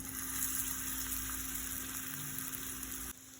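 Raw banana skewers fry in oil on a hot stone dosa pan over a medium-high flame, giving a steady, soft, continuous sizzle that dips quieter at the very end.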